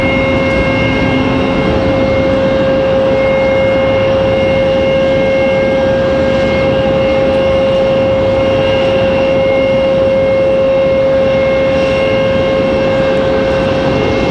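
An Air France airliner starts its takeoff roll at Raleigh-Durham airport, a loud, continuous jet engine roar with a steady whine and broadband rumble that holds for the whole stretch, with no voices.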